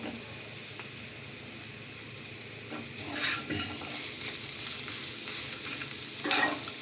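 Boiled potatoes, broken by hand, frying with turmeric, chilli and coriander powder and other spices in a pan for masala dosa filling: a steady low sizzle with scraping stir strokes, louder around the middle and again near the end, no talk.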